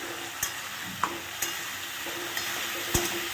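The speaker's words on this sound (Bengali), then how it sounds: "আলুটা কেটে এবারে কষাচ্ছি।" Small chopped potatoes being stirred and sautéed in a pan with cumin and ginger, a soft steady sizzle broken by several sharp scraping clicks of the spoon against the pan, quiet and close with no talking.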